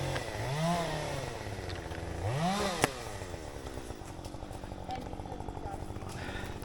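A chainsaw engine revs up twice in rising surges, then settles to a lower idle-like running drone, moderately loud; a sharp click falls between, during storm cleanup of big trees after Hurricane Helene.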